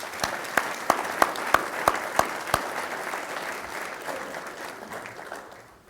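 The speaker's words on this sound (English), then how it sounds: "And I would propose another round of applause for John Draper." A round of applause at a United Way charity dinner, opening with several loud rhythmic claps from a nearby person before dissolving into steady crowd clapping that gradually fades.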